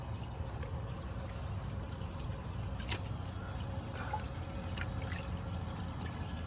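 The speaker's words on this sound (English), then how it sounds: "Now this fill valve in here is super slow." A Briggs Beautyware toilet fill valve slowly refilling the tank, a steady low rush of water with faint drips and trickles, continuous and fairly quiet, no talking.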